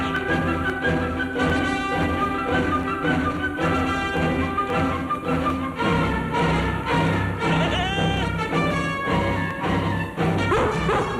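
A farm dog barks repeatedly in a 1960 television drama, the yips and barks set over a continuous bed of orchestral music with no talk.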